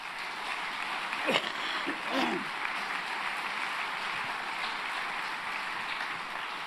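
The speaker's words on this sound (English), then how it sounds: "Let's give him a round of applause." Steady, sustained applause from an audience at the Nixon Library for Newt Gingrich, a dense even roar of clapping that holds throughout with a couple of brief voices rising over it early on.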